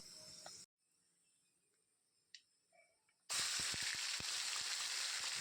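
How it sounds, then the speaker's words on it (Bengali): Whole cloves, dried chillies, bay leaf and cinnamon tempered in hot oil, a loud steady sizzle that cuts out, leaves a quiet gap with faint clicks, then returns hissing strongly. "তো এই কয়েকটা গোটা মশলা আমি তেলের মধ্যে সম্বার দিয়ে দিলাম।"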